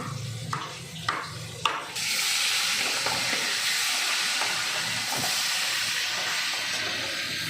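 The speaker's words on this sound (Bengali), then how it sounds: "মা মাছ ভাজছে এখন।" Fish frying in hot oil for a Bengali mustard-oil fish dish, a loud steady hiss that starts after a few clicks and bumps and runs on evenly, close by, with no voices.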